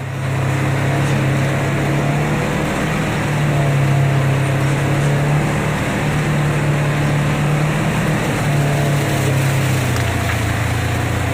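A loud, steady engine drone from a 2020 Polaris General XP utility vehicle rolling over grass, its low hum holding constant with slight shifts in pitch throughout.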